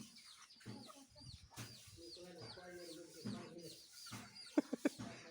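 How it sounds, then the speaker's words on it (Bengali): Chickens cluck in short, scattered bursts close by, with voices talking among them and a few sharp louder calls near the end. "আর মুরগি ধরবে না।"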